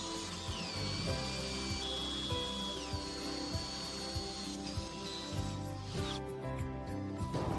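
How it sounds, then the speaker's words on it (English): Small drill boring holes through a Mercedes Sprinter side door, with repeated short whirring bursts and rising pitch sweeps, fairly close and moderately loud, with no talk. "drill all 4 holes with a smaller drill all the way through"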